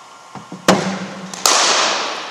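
A cricket bat strikes a ball with sharp, loud cracks during academy batting practice, a few distinct impacts ringing out with a short echo.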